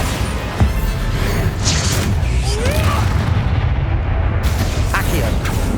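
Spell explosions and combat effects from Hogwarts Legacy, a Bombardo blast among them, form a dense, continuous wall of booming sound. Magical whooshes and chirps sit on top, with no talking.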